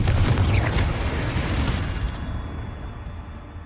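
A Confringo fire spell explodes in Hogwarts Legacy, a loud, close booming blast with a rumbling low end that fades steadily over a few seconds.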